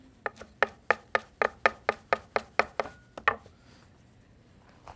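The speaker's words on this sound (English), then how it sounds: "We'll chop up some basil." A knife chops fresh basil on a cutting board in a kitchen: about a dozen crisp, evenly spaced chops in a steady rhythm, close and clear, ending with a final cut and quiet.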